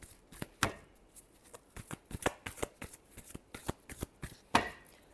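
Crisp, rapid riffling of a tarot deck being shuffled by hand, a string of sharp papery snaps and flutters up close, with no voice over them.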